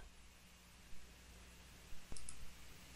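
A single crisp mouse click on a submit button while configuring extensions in a FreePBX lab, close and quiet, with a faint rustle around it over a steady low hum.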